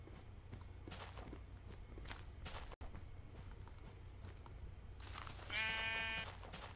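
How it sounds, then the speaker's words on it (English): A sheep bleats in Minecraft, one wavering bleat late on, heard over steady game background noise and footsteps. "I hear the sheep, but I don't see the sheep."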